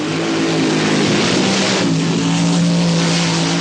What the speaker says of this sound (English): he's not happy with his engine as he prepares for the burnout.